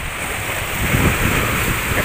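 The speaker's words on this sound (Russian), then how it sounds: "Ветер у нас, море как пришло, посмотрите." Sea waves wash onto a beach under strong, steady wind, a loud continuous roar of surf and gusts with no talking.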